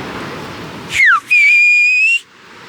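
A sharp, loud human whistle in Silbo Gomero whistled language, one falling note then a long rising held tone, carrying the shape of speech, alone against quiet background.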